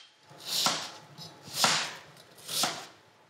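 A knife chopping an onion finely on a cutting board, three distinct close chops spaced about a second apart, each a crisp sharp strike with a short fade, with no talk.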